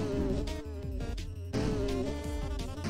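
Insect-like buzzing of flies in the video game Underswap, a steady drone layered over busy game music that runs through the whole moment without talk.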